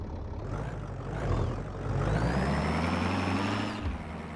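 An old rusted diesel tow truck that was abandoned cranks, then catches and runs with a low, rough rumble that swells louder, and a thin whine rises before it settles.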